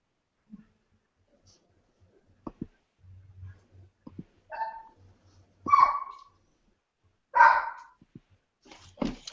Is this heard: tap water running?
no